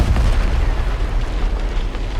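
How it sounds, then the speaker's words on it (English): Explosion aftermath in Arma 3 with the JSRS sound mod: a loud, dense roar of rubble and debris raining down nearby, sustained and heavy with deep low rumble throughout. "Things like rubble and debris coming down all around you when an explosion is nearby."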